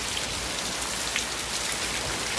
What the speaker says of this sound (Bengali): দেখো বন্ধুরা বৃষ্টি পড়ছে আর রোদ্দুর